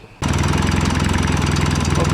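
A Yamaha XS650 motorcycle engine fires up after a brief quiet moment, then settles into a loud, steady, close idle with an even, rapid pulsing rhythm.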